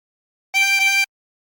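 Two short blown notes on a tremolo harmonica at hole 13 sound back to back, clear and close, with silence before and after.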